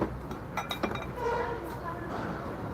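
Glass containers clink in an A101 discount supermarket in Turkey, a few quick, light taps early on over a low store hum, with a person speaking nearby.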